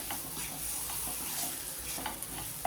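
Steady sizzling from a hot pan as a spatula stirs coriander-cumin powder and spices, close and continuous, no voices.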